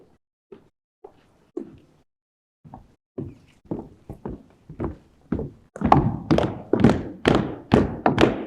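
A squad marches at a Tec Voc Remembrance Day ceremony in 2021: heavy footsteps thud in a steady rhythm, sparse at first and then building into loud, close, regular tramping as more marchers fall in.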